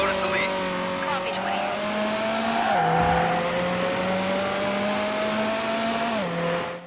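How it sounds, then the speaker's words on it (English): Yellow Lotus Elise engine in Need for Speed Hot Pursuit 2, droning steadily and climbing in pitch before two sharp gear changes, with brief tire squeal and faint radio-style chatter underneath. "Vehicle is the yellow Lotus Elise"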